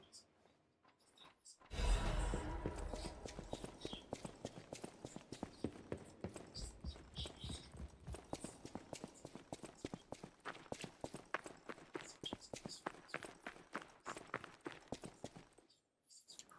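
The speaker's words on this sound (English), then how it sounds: "Footsteps on different terrain." Footsteps in the Lies of P video game, crossing different terrain: a long run of quick, even, close steps that keeps going without a break, loud and crisp over a faint background, no voices.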